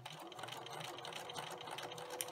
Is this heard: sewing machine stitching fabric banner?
yes